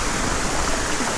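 Loud, steady rushing water pouring into the ocean in The Last Door video game, a dense unbroken roar of broadband noise with no talk over it.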